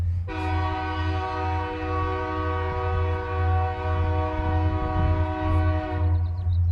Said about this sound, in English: wait for that train to be done